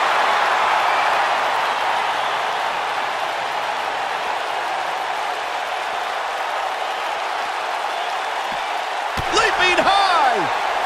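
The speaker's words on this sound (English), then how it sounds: "Look at this. Big slam." A body slam lands in a WWE 2K19 wrestling match, a sharp impact near the end followed by crowd noise and cheering, after a long steady roar of the arena crowd.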